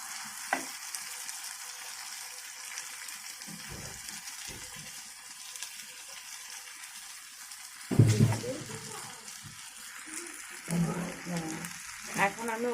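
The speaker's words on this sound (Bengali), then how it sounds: "ওই নুডলসটা এখন ঢেলে দিচ্ছি।" Noodles tipped into a hot pan and frying, a steady sizzle with louder bursts of hissing and scraping as they are stirred, close up and with no speech over it.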